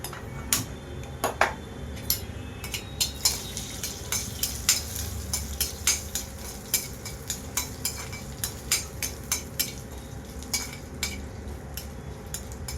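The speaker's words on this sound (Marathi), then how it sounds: "अर्धा चमचा जिरं, दालचिनीचा 1 तुकडा, 5-6 मिरे आणि 2 लवंगा आणि पत्तर फूल असं भाजून घेणार आहोत।" Cumin, cinnamon, black pepper, cloves and stone flower dry-roasting in a pan for Kolhapuri misal, with steady scraping and clicking stirs repeating through, sharp taps from spices and spoon against the hot pan, no talking.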